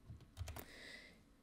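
A few quick, soft keystrokes tap on a computer keyboard in a quiet room, followed by near silence.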